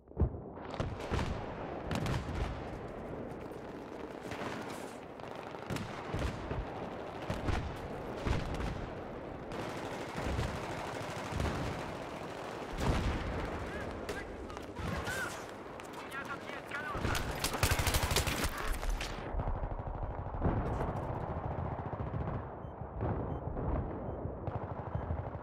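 Dense rapid gunfire and explosions from the Battlefield video game's Seine Crossing map fill a busy multiplayer match, with overlapping bursts and booms throughout while players talk over the action.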